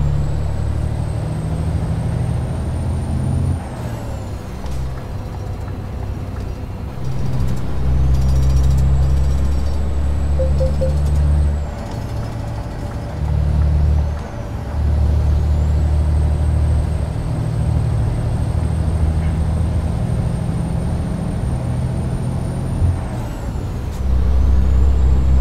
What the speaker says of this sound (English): This truck is amazing.